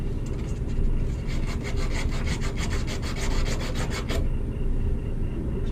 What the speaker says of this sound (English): I got a little piece of sand cloth that's made for cleaning copper. I'm going to scuff this up a little bit